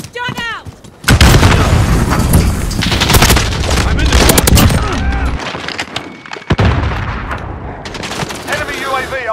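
Grenade blast and heavy gunfire in a military shooter video game shoothouse with an Uzi, loud dense bursts of shots and booms after a brief quiet start, with voices calling out over the chaos.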